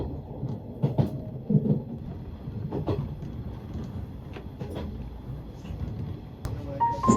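Low, steady rumble of the Rokumon restaurant train on the Shinano Railway nearing Nagano Station, with occasional clicks and soft knocks from the wheels and carriage; continuous and moderately quiet.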